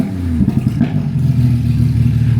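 A Porsche GT3 sports car engine is heard up close, loud and throaty, with a quick burst of revving and rough clatter early on before it settles into a steady rumble.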